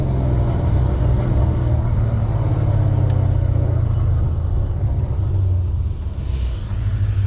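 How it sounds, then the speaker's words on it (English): Dodge Challenger ScatPack fitted with long tube headers, its exhaust a loud, steady deep rumble during a downshift, the low drone holding close and heavy before easing slightly near the end, no voices. "with the headers, it definitely does pop a lot more, like pop and crack"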